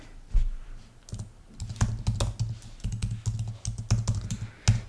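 A computer keyboard clatters under quick, close typing as a domain name is entered, a steady run of sharp key clicks with a few brief pauses.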